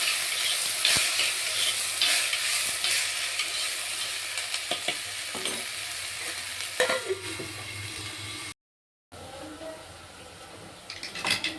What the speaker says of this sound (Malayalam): ഞാൻ അനുസരിച്ച് കൂടി ഇളക്കി വേവിക്കുകയാണ്.